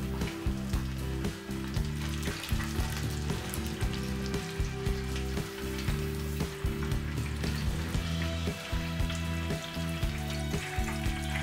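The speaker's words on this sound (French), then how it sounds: "Laissez frire 3 à 4 minutes afin de ne pas trop cuire la chair." Oil sizzles and crackles steadily as sea bream deep-fries, with busy bubbling throughout and a few soft clinks, close and fairly loud.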